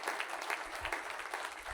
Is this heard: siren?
no